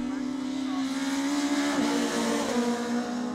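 BMW Mini rallycross race cars strain uphill on a steep climb at Lydden Hill, a steady droning engine note holding near constant pitch, loud and sustained with a brief dip midway.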